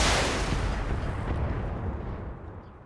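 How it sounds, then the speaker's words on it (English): A mech in the video game Battletech fires all its weapons at once, a loud rumbling barrage of blasts that starts hard and slowly decays over about three seconds, with no voices. "Firing all weapons."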